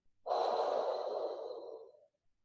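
One deep, close breath during a workout, a long airy exhale that starts strong and tapers off over about two seconds, alone in silence.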